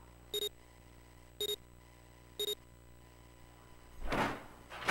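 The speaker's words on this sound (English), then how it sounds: "The door had opened." A door opening in the video game 999: three evenly spaced electronic beeps, then a loud whooshing slide of the door, all up close with no talking.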